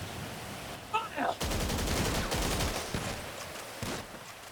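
A ragged volley of firing-squad gunshots in a video game: several loud cracks in quick succession followed by scattered later shots, with faint voices beforehand.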